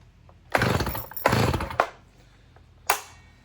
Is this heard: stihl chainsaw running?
yes